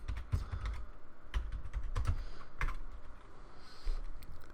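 Quick bursts of keystrokes on a computer keyboard, close and fairly quiet, irregular clusters of clicks with short pauses between, a lone heavier tap near the end; no speech.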